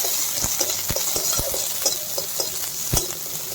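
Dried chilli and onion fry in hot oil for a dal tempering, a steady close sizzle broken by sharp spoon scrapes and taps against the pan, with no speech.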